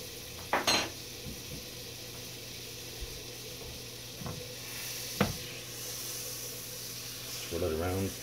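Salted butter sizzles in a cast iron pan with a soft, steady hiss, broken by a few sharp clinks of utensil on metal; a voice speaks briefly near the end.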